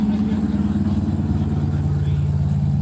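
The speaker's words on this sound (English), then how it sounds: "it's got titanium exhaust on it. Thing sounds good." A car fitted with a titanium exhaust idles and burbles steadily at a Las Vegas cars-and-coffee meet, its low rumble constant throughout with crowd chatter in the background.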